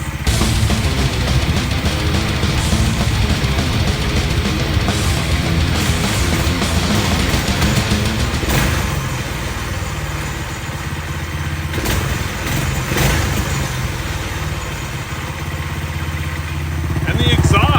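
A motorcycle being readied for Wasteland Weekend idles steadily after startup with a working exhaust, a continuous loud rumbling drone close by over the whole stretch with no talk.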